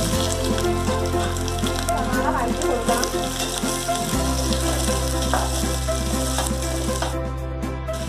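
Sliced onion frying in hot oil with cloves, cardamom and cinnamon for a restaurant-style vegetable kurma, a steady close crackling sizzle under a constant low hum, with no talk throughout.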